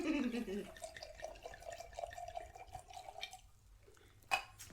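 Wine poured into a glass, the liquid's tone rising at first and then settling into a steady, fairly close trickle with faint background noise.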